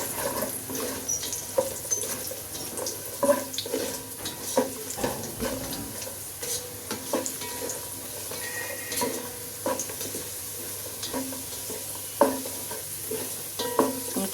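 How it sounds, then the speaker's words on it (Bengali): Cashews and raisins frying in a pan for basanti pulao, a steady close sizzle broken by frequent scraping stirs of a spatula across the pan, with no voices. "এখানে এটাকে দিয়েও আমি একটু ভেজে নিচ্ছি।"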